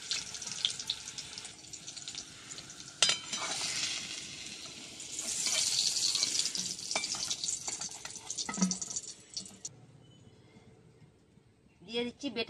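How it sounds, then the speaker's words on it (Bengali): Stuffed pointed gourds (kakrol) fry in oil with a loud, steady hiss and crackle and some scraping, mixed with a watery running sound and voices, before the sizzle fades to quieter background. "কাঁকরোলগুলো ভালো করে ভাজা হয়ে গেছে"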